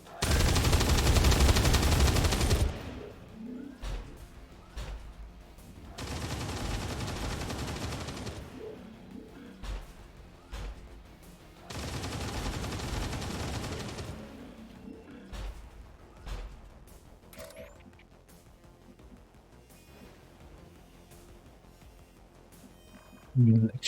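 Cyclic fire in XCOM 2 Long War of the Chosen: three loud bursts of sustained rapid automatic gunfire separated by pauses, with scattered quieter impacts and clicks in between and a final sharp burst at the end.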